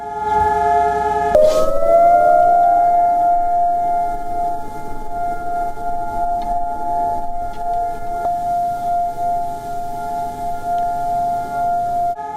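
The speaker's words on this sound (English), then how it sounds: "The sound of a 2-minute siren brought Israel to a standstill" A civil defense siren sounds for Holocaust Remembrance Day in Israel, a long loud steady wail that rises at the start and then holds level, with faint background noise underneath.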